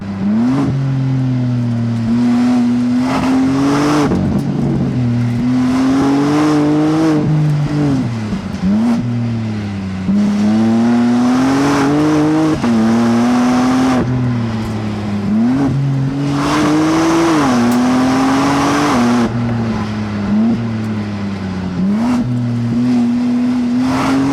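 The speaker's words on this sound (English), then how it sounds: "you might even hear the front wheels chirping as they struggle for a bit of grip" BMW M4 Convertible engine revving hard through repeated accelerations, a loud, continuous rising and falling drone with gear-change dips, the front tyres briefly chirping for grip; no talking.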